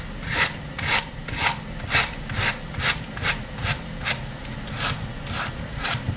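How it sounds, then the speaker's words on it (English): A sanding block rubbed back and forth over decoupage paper on a wooden craft piece, giving a steady rhythm of about a dozen raspy, gritty strokes, close up with no talking. "I'm just gonna go in with a sanding block, and we're gonna sand that off"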